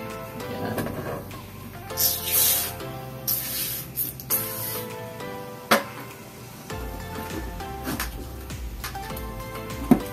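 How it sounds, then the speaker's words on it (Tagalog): Extreme One disinfecting foam sprayed onto a motorcycle helmet's lining and straps, heard as a few short, close hissing bursts over steady background music. "sprayan na natin pati lining"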